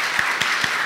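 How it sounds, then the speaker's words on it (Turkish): A brief stretch of audience applause at a panel discussion, a steady broadband clatter of many hands with a few distinct louder claps standing out. "Önce alkışı alalım."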